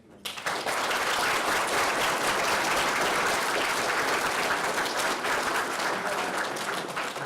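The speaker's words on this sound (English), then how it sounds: "let's give them a round of applause" A keynote crowd at the MAGD Expo 2015 breaks into applause for a panel, a loud, dense wash of clapping that starts abruptly and holds steady throughout.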